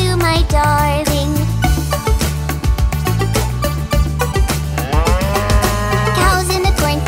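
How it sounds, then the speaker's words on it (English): Cow moos rise over a bouncy children's nursery-rhyme tune about cows in a cornfield, with sliding lowing calls mixed into continuous loud music with steady percussion. "Cows in the cornfield, two by two, cows in the cornfield, two by two."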